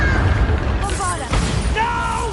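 A Bombarda spell explosion in Hogwarts Legacy, a short booming blast amid combat effects and whooshing spell sounds, with a character shouting over it.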